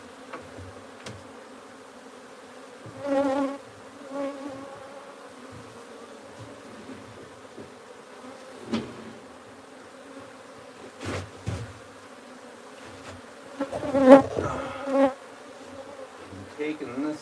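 Wild bees buzzing around a hive being moved into a new frame, a sparse hum with scattered louder passes of individual bees close by, rising near the end.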